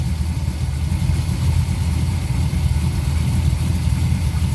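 An LS V8 engine swapped into a Porsche 944 idles steadily after being revived on an old battery, a loud, continuous low rumble, close and unbroken, with no voices.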